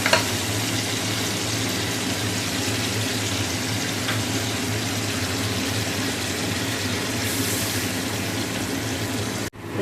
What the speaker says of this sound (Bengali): এবার একটু সর্ষে দিয়ে দেবো